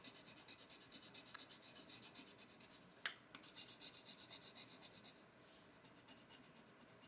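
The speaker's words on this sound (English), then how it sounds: "now let's blend with our pencil, our white pencil." A white colored pencil blends over a drawn anime skin area on paper, giving a soft continuous rubbing rasp with a faint tap midway, quiet and close, no voices.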